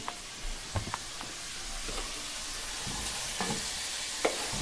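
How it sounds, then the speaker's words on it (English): Diced red onion sizzling in a hot pan of browning baked beans base, a soft continuous fry with a few sharp clicks and stirring scrapes, no talk. "what I'm going to go ahead and do is add my diced red onion"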